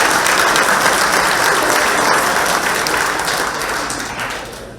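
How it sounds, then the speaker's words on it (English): Sustained applause from an evening banquet audience at a high school Hall of Fame induction, a dense steady roar of many hands that slowly tapers off toward the end, with no talking over it. "So a round of applause for our table sponsors."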